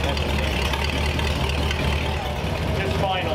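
A 1934 Ford Coupe engine idles steadily after starting, a continuous low rumble close by with a voice briefly heard over it.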